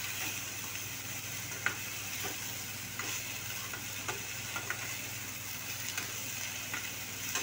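Cauliflower with garam masala frying in a kadai, a soft steady sizzle under quiet, regular scrapes and taps of a spoon as it is stirred, close but faint, no voices.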